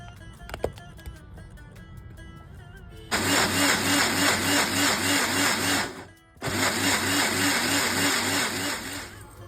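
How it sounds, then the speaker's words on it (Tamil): A kitchen mixer grinder whirs loudly as it grinds pav bhaji ingredients, starting after a few seconds of quiet, running steadily, cutting out briefly, then restarting and continuing to the end. "இதை நல்லா கிரைண்ட் பண்ணி எடுத்துக்க போகிறோம்."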